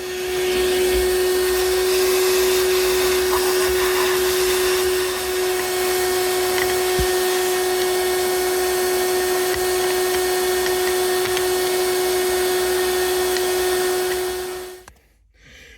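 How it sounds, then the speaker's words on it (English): Steady, loud vacuum whine with a strong sustained tone runs nearly unbroken while a 1984 Toyota Tercel SR5 transmission is cleaned out with a shop vacuum and compressed air, cutting off abruptly at the end. "I blew it out with some brake clean and some compressed air and vacuumed the crap out of it."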